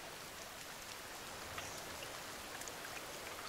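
Steady rain falls in the woods of the survival game The Forest, a dense, even hiss of drops with a few brighter patters, continuous and fairly quiet with no talking.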